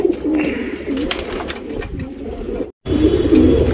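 A tournament racing pigeon coos close by in low, repeated throaty calls, with a faint chirp or two and a brief silent gap.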